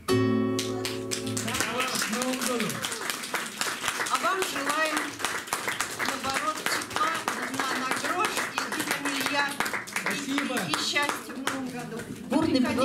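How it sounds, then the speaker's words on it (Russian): An audience at a musical evening concert claps along, with many hands beating a steady rhythm that runs the whole way under voices and a sung melody. "Грамотные продолжительные аплодисменты."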